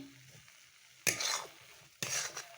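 Bombay duck fish frying with potatoes and eggplant in a pan, two loud bursts of sizzling and stirring breaking over a quiet kitchen background.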